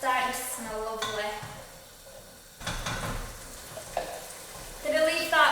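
Garlic, chickpeas and potato sizzle and are stirred around a pan, with frying hiss and scraping stir strokes that drop away in the middle and return louder near the end, while someone talks over parts of it.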